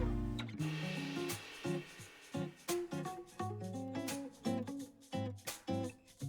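An overlock serger sewing machine stitches a seam on fabric in bursts of rapid mechanical clatter, stopping and restarting several times, loud and close with no voices.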